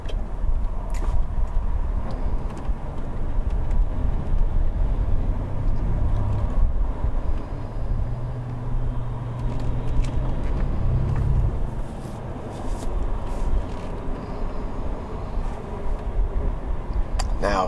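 Road traffic heard from inside a moving car in heavy stop-and-go driving, a steady low engine and tyre rumble filling the whole stretch with a few brief louder passes.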